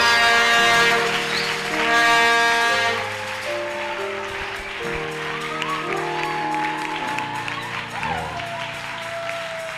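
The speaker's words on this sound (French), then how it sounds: "J'attends que tu acclames le Seigneur." A church congregation cheers and applauds to praise the Lord, with loud sustained clapping and voices over held organ or keyboard tones, easing off toward the end.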